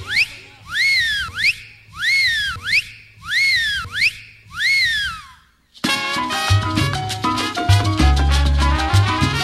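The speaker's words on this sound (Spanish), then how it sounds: "Y dice: un silbido" At a sonido dance event in Chiconcuac, Texcoco, a loud whistle repeats a sweeping rise-and-fall call five times in a rhythmic pattern, then cuts off as thumping bass-heavy dance music begins.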